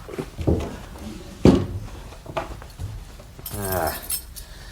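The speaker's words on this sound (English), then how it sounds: "Here's his keys." Keys are handled in a radio drama scene set in a bedroom, with a bright metallic jangle near the end following a few dull knocks and spoken voices.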